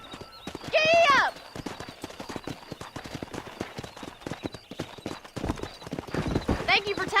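In the video game Red Dead Redemption, clip-clop hoofbeats of a horse at a steady gait, with a loud whinny near the start and another toward the end, under some background chatter.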